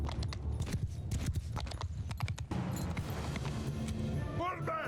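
Horses galloping during a battle in the video game Mount & Blade II: Bannerlord, rapid clattering hoofbeats moving through, then easing off toward the end under game background noise.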